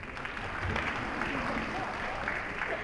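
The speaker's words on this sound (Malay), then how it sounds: "Tepuk tangan." Dense, continuous applause from an audience at a Malaysian religious talk on young marriage, thanking a speaker; the clapping stays full and even throughout with no voices breaking through.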